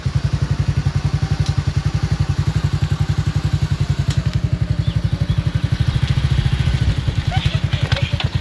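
A motorcycle engine runs close and loud with a fast, even thumping pulse throughout while a learner rider works the clutch and gears, and voices are faint in the background.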